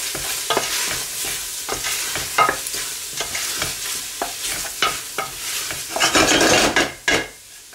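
Food for a lamb tagine fries in a pot while being stirred, with a steady sizzle under repeated scrapes and clinks of a utensil against the pan, close and fairly loud, with no talk.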